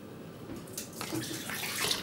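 Water pouring into the bath of an Ultrawave Hygea ultrasonic cleaner, a steady splashing rush that grows slightly louder as the tank fills.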